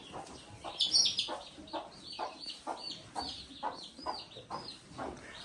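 Farmyard chickens and roosters cluck in a quiet, rhythmic string of short calls, soft and moderately near, with one brighter higher squawk early on and no talk.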